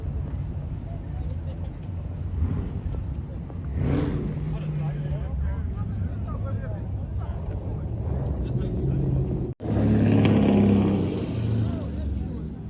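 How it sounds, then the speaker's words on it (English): A car does a burnout at an outdoor car meet, its engine roaring steadily at a distance with a brief cut and then a louder surge, while people chat nearby throughout. "Somebody burning out?"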